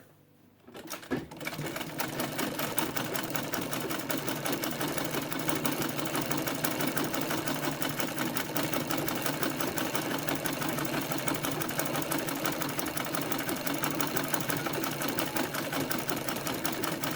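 Domestic treadle sewing machine stitching a fabric face mask, clicking along in a fast, steady mechanical rhythm that starts after a second and runs continuously, close up with no talk.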